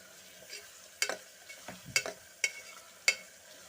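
Onions softening in a pan for tamarind-leaf mutton give a faint, quiet sizzle, punctuated by about five sharp spoon knocks and scrapes against the pot at irregular intervals.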